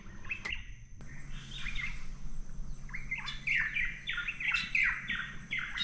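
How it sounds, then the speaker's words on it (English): Several birds chirp and tweet in quick bursts, close and clear, with overlapping calls over a faint low hum, heard from a boat anchored behind Vanua Island, Fiji. "that is the most bird life we've heard, I think, since we got to Fiji."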